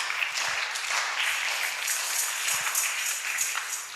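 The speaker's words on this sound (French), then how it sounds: "On acclame." A church congregation breaks into applause at a Sunday service, a steady wash of many hands clapping at medium distance throughout.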